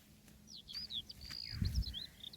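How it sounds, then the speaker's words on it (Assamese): Birds chirp in quick, high, bright bursts, several overlapping calls across the clip over a low background rumble, with a brief thump near the end. "চৰাই চিৰিকটি ধুনীয়া কৰি মাতি আছে চাওক"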